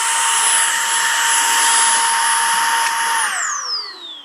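A Milwaukee M18 precision blower runs at a steady, close, loud whine with a flat hum, then the pitch sweeps downward as the motor winds down at the end.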